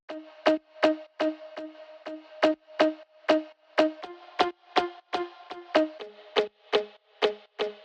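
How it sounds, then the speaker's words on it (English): Short plucked guitar notes repeat in a steady, bouncy rhythm, crisp and upfront with quick decays, playing alone without voices. "There's some cool guitar plucks to keep the rhythm of the song going"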